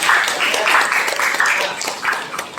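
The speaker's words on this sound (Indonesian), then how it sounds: "tepuk tangan jawaban kita" A group claps together in a classroom-style session, a fairly close, lively burst of hands with slightly pulsing, rhythmic surges rather than a smooth wash, continuing without speech over it.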